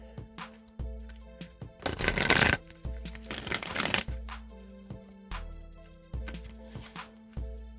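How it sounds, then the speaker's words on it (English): A deck of oracle cards, the Wisdom of the Oracle deck, being shuffled, with two loud riffling bursts amid quieter tapping and handling sounds, close by, while soft music plays underneath. "Now I'm just going to shuffle the Wisdom of the Oracle deck."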